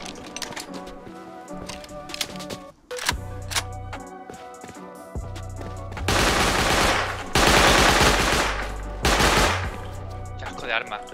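Automatic weapon fire in the survival game Rust, loud close bursts and sustained rapid volleys that swell into dense stretches of shooting, with a few separate single shots mixed in.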